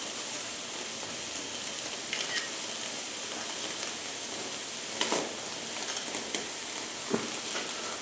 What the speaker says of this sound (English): Searing that good old steak.